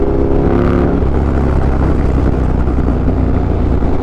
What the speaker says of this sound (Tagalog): V-twin to, talagang pag ginabitan mo ng CRT, wasak na wasak talaga yung tunog niyang boy, as in.